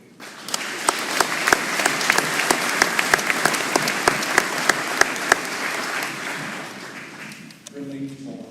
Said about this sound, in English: Please join me in a huge round of applause of this year's Highland Fire Department Scholarship winners.